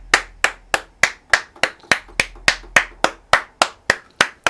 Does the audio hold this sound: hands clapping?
yes